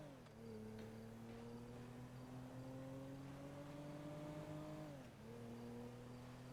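A car engine in a video game roleplay revs and accelerates steadily, its pitch climbing gradually, then dips briefly as it shifts before pulling again, heard alone and fairly faint.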